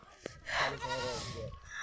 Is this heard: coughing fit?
no